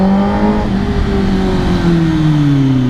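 A 2022 Kawasaki ZX10R superbike with a loud exhaust revs close by, its engine note holding high and then sliding slowly lower as the revs ease off.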